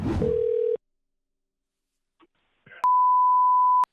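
Telephone tones for a call to a coin shop: a short beep, a pause, then a steady electronic ringback tone, loud and clean.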